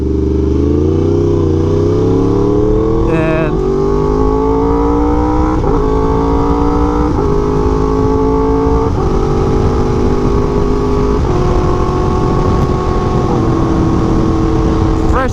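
Yamaha R1M and BMW S1000RR sport motorcycles on a ride, a loud continuous engine drone with rising and shifting pitch through several gear changes, wind noise throughout.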